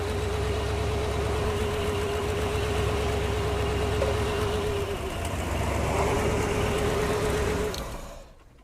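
A 454 7.4-liter gasoline V8 running steadily after a Ryobi jump starter cranks it, a loud continuous low idle rumble with a faint whine above it, cutting off near the end.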